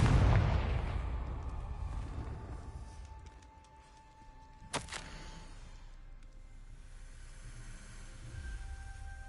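A Confringo blasting spell in Hogwarts Legacy goes off in a deep rumbling boom that fades over a few seconds, followed by a single sharp crack and lingering low ambience, with no talking.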